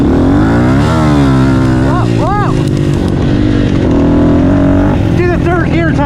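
A Honda CRF110 pit bike fitted with a 147cc big bore kit and slipping clutch revs hard and accelerates up through the gears, its loud, close engine note climbing and dropping with each shift.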